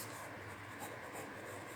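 Chalk or marker writing on a board during a chemistry lecture, a soft continuous scratching under a hissy room background.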